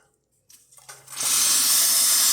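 After a quiet moment and a few soft clicks, a loud, steady rush of hot water hisses out of a Lelit Bianca espresso machine and keeps flowing close by.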